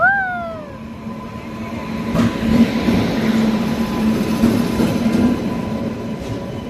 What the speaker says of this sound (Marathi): आली बघ ट्रेन आली.